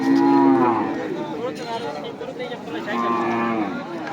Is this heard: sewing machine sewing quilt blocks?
no